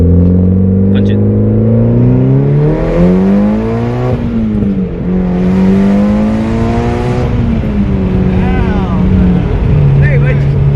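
Tuned high-mileage Mitsubishi Evo 9 MR pulling hard in third gear, engine note rising steadily, dipping at a shift and climbing again, loud and close from inside the car.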